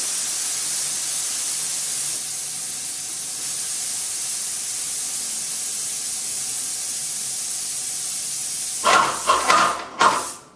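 A continuous loud hiss of a Graco ProStep airless paint sprayer runs for several seconds, then stops, followed by a few short rattling clunks.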